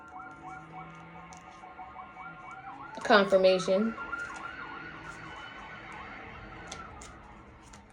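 Emergency sirens wail faintly in the distance outdoors under a woman's speech, with a short louder burst of voice or noise partway through, then the wailing continues at the same low level.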